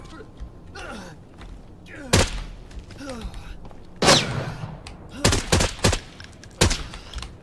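Gunshots from an Arena Breakout match ring out in several sharp bursts, some single and some in quick clusters, loud and close at times, with someone talking between the shots.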